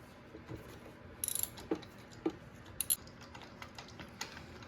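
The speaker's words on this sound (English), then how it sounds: "All right, let's go ahead and pull the first plug." A ratchet works a spark plug loose on a Yamaha R1 motorcycle: a quiet burst of quick clicks, then scattered single metallic ticks and clacks against a faint, hushed background.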